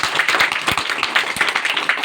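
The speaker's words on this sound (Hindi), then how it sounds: "जोरदार तालियों से स्वागत करते हैं" A gathering applauds in welcome at a public meeting in rural Bihar, a dense, steady wash of many hands clapping close by for about two seconds, with no talk.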